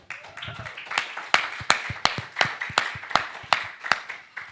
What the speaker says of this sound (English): Clap it up for the Most High.